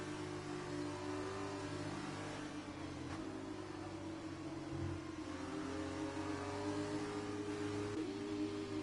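Formula 2 race cars behind a safety car at Sochi in a racing game, their engines humming and revving at a steady mid pitch, with a few rises and falls as cars pass.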